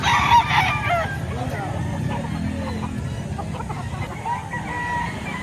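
Chickens and roosters at a poultry market in Lipa, Batangas, with a rooster crowing and hens clucking amid crowd chatter and passing vehicle noise; people talk nearby throughout.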